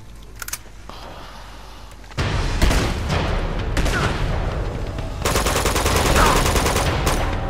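Gunfire in Uncharted 2: Among Thieves Remastered, first a few sharp isolated shots, then loud sustained bursts of automatic fire and heavy impacts that build toward the end.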